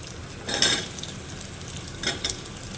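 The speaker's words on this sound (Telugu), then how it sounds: "కొంచెం వేగినట్టు అయినాక ఈ ఉల్లిపాయలు వేసుకోవాలి" Onions stirred in hot oil in a pan, a steady low sizzle with two brief louder bursts of scraping and crackle near the start and toward the end, no voices.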